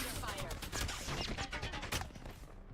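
Heavy gunfire in the shooter game Apex Legends, where a Kraber sniper rifle is in use. Loud, dense, rapid bursts of shots and impacts crowd together close up, with game voice lines mixed in.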